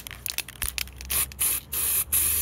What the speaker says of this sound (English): I think we're ready to put some etch primer on.